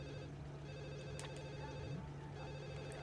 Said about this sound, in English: no one answer the phone.